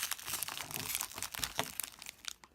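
Taped-up cardboard packaging around an Invictus Geneva wristwatch crinkles and tears as it is pulled open, a close, busy run of crackling and ripping bursts with no talking.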